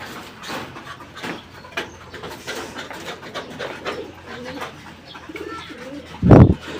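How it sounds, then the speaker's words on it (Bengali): Large Sherazi fancy pigeons at a pigeon farm, with low coos and soft bird calls against a busy background, and a loud, brief thump or burst near the end. "সিরাজি কবুতর অনেক বড় সাইজ হয়"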